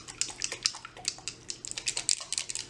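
Liquid foundation is shaken in a bottle, giving a rapid, irregular run of soft watery sloshes and clicks that continue steadily throughout, close and fairly quiet.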